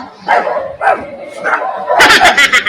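A dog barks close by, with single barks spaced about half a second apart followed by a quick burst of sharp, louder barks at the end, mixed with a few voices.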